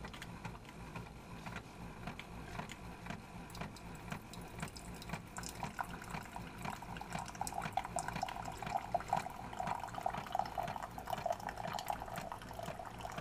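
A coffee maker brews with a soft, continuous trickle and gurgle of flowing water that grows slightly busier as it goes on, quiet and with no talking.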